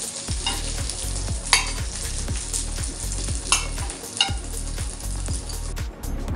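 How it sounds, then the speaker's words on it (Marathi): Prawns fry in a hot pan with a steady crackling sizzle, broken by repeated rhythmic scraping strokes as they are stirred and turned. No talking is heard. "कोलंबी प्रॉपर झाली आहे फ्राय"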